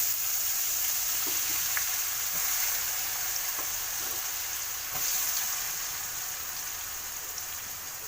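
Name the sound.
dried onion and turmeric frying on a pan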